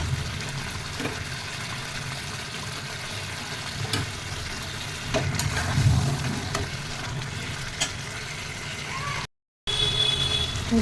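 Large chicken pieces cook with biryani masala and sour yogurt in a pan, giving a steady close sizzle and frying crackle under a speaking voice, with a brief dropout near the end.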